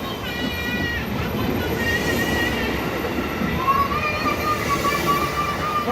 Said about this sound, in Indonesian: Dadah kereta lagi deh, Dede.